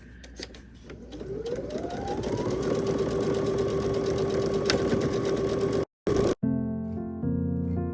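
A sewing machine stitches a curtain hem in one steady, loud, continuous whirring run that briefly cuts out twice near the end before resuming.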